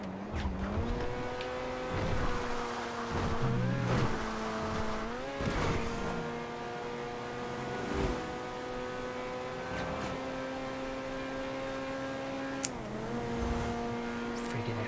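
A Feltzer sports car drives in GTA 5, its engine droning steadily with rising and falling revs and shifting pitch, plus occasional tire noise, at moderate level throughout.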